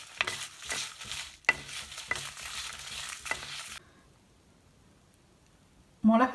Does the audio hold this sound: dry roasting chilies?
yes